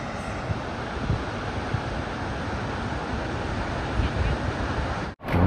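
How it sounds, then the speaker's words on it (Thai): A stream or waterfall flowing in Sequoia National Park gives a steady, dense rushing roar mixed with wind buffeting the microphone, continuous and unbroken until it cuts off abruptly near the end. "นี่ตรงนี้มีลำธารด้วยอ่ะ"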